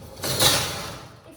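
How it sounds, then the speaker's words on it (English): A home oven door is opened and shut during duck confit cooking in a kitchen, giving a soft clunk and brief sliding sound at close range, with quiet household voices around it. "Maybe Lara can open the oven door for Archer?"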